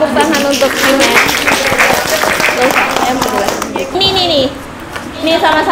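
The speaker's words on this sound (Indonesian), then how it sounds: "Tepuk tangan untuk Imet." A class of children applauds during a school lesson, loud clapping mixed with kids' chatter and voices throughout, close and busy.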